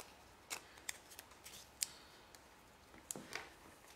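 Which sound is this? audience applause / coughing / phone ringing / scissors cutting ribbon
scissors cutting ribbon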